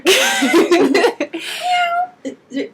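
A person mimics a cat's meow with a drawn-out, whiny vocal tone, followed by two short meow-like yelps, close to the mic.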